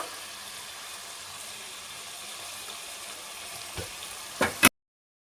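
Chicken pieces fry in a pan, a steady soft sizzle holding evenly throughout, followed by a couple of short louder knocks or clatters just before it cuts off; no talking.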